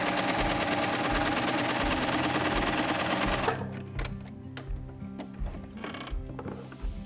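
Coverhem machine sewing a single stitch, a loud rapid mechanical whir lasting about three and a half seconds, then cutting off into quieter clicks and handling sounds.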